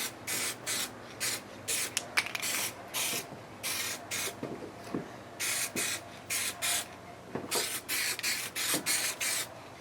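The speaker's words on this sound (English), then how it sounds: "Every time you spray something, you want to make sure you got an even coat." Repeated short hissing bursts of a MyDipKit spray can applying a coat, each about half a second, pulsing steadily with brief pauses between, close and fairly loud.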